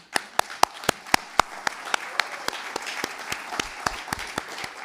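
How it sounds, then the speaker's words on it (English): Audience applause at a conference, heard as sharp, fairly sparse claps in a steady rhythm of roughly four per second over a soft background wash, continuing for about five seconds. "it deserves recognition, respect, and applause"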